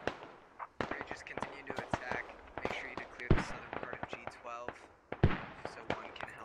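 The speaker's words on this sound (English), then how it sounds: "Mortars coming into this position. Mortars landing just behind." Mortar shells landing in the military shooter Squad: a busy run of sharp impact thumps and bangs, with two heavy booming blasts standing out among scattered smaller hits and crackles.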